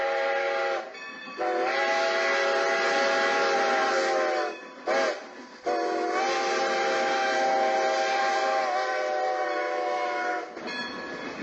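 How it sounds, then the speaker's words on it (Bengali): A train pulling in along the rails with a loud steam whistle blowing in long sustained blasts, broken by brief gaps, over a steady rumble of wheels on track. "দূরে ট্রেনের আলো দেখা যাচ্ছে, রেল লাইনে ঘর ঘর শব্দ উঠছে। ট্রেন সত্যি সত্যি এসে গেল।"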